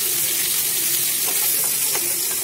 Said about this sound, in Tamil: கொதிச்சுட்டு இருக்கிறாங்க.